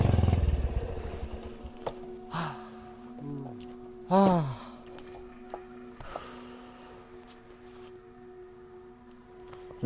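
A motorcycle rides along a broken, rocky road, its engine holding a steady hum under rattling and thumps, with a couple of rising whine-like swoops partway through.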